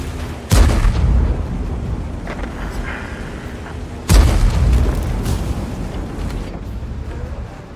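Tank cannon in World of Tanks, fired from a US T28 tank destroyer: two heavy, booming shots a few seconds apart, each a sharp loud blast trailing into a rumbling decay, with no talk.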